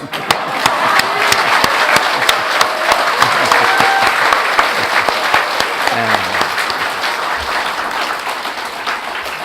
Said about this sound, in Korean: 이거 정말 박수 크게 쳐야 돼